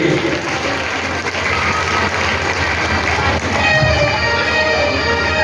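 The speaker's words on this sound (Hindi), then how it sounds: "जोरदार ताली बजा दीजिए भक्ति के लिए।" Devotees at a Bhagwat Katha gathering in Mundichak, Bhagalpur clap loudly and continuously, a thick roar of many hands under faint crowd murmur, steady for several seconds with a slight swell near the end.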